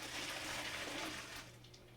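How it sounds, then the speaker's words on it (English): Water poured out of a kitchen pot into a sink while cooking, a steady broadband gush for over a second that thins and fades near the end. "So I'm just going to dump this water out,"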